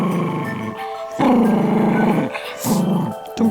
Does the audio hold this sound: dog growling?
yes